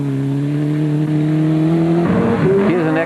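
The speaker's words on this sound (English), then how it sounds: "the brothers Gurney, Greg and Brett in their 2-seater Sandmaster, sounding very crisp" A 2-seater Sandmaster race car engine holds a crisp, loud, steady drone close by, then rises sharply as the driver revs and accelerates near the end.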